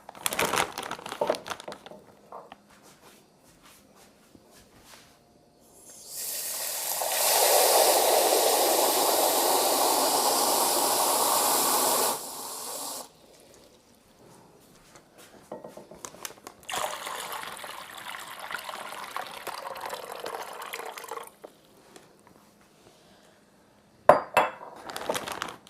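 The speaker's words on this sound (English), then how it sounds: "we're just going to pour it in there until our bag is pretty much almost full" Water poured into a plastic bag set inside a container for a flower arrangement, a steady loud rush lasting several seconds amid crinkling plastic and light handling clatter before and after.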